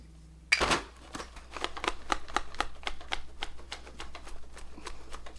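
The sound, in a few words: setting spray being sprayed on face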